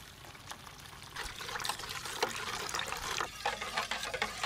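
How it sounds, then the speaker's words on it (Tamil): Boiling hot water poured into a powdered fruit-flavoured Kuchi ice mix, a soft continuous splashing trickle that grows slightly fuller over a few seconds, faint and close with no talking. "சுடு தண்ணி நல்லா கொதிக்க வச்சு ஊற்றிக்கணும்."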